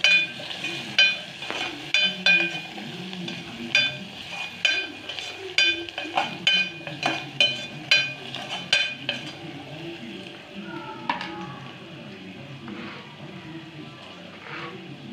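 A spoon clinks against a pan while aloo curry with turmeric is stirred, making a string of close, bright metallic scrapes and taps through the first ten seconds and then easing off into softer sounds.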